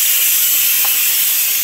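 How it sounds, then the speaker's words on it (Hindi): A pressure cooker cooking paneer butter masala lets off a loud, sustained hiss of steam through its whistle, an unbroken high rush with nobody talking. "चलिए अब इसको लगाते हैं 2 विसल।"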